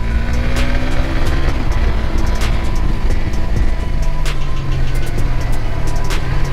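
A Suzuki GSX-S150 motorcycle engine held at a steady rev around 5,000 RPM, a loud, continuous close-up drone with a faintly shifting pitch.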